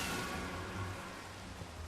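Rain in the Minecraft video game, a soft, steady hiss that stays faint and even the whole time, with no voices.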